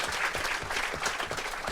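A live studio audience claps in a dense, close burst of applause, steady throughout the short stretch.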